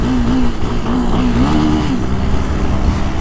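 A brand-new Honda Twister motorcycle rides along with its engine droning close and loud, the pitch rising and falling as the throttle changes.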